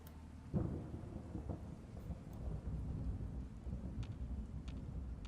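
Thunder from a modded rad storm in Fallout 4, a close rumbling boom that swells early and rolls on under steady rain-like noise, with a few sharp crackles later.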